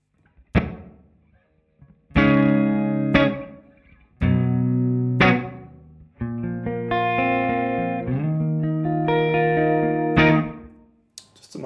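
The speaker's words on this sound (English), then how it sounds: "Nice sort of room reverb," Electric guitar chords and single notes are played through a Soundtoys Boomy Roomy room reverb, each struck phrase ringing out with a short, roomy tail before the next, separated by brief pauses.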